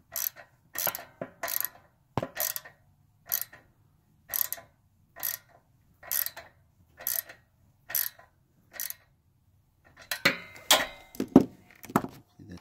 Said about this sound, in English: going to start to tighten it down with my 8mm wrench